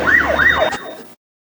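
An ambulance siren wails outside a hospital fire in Fortaleza, loud and close, with a fast rising-and-falling sweep. A sharp click breaks it, and then it cuts off into silence.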